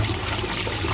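Water splashes continuously inside a 25-litre DIY trickle tower with no media in it, a steady close hiss of falling, splattering water.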